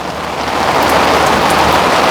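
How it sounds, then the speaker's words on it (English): Heavy summer rain pours onto an umbrella by a pool, a loud steady close-up hiss of drops drumming on the canopy with no thunder standing out. "You can hear thunder"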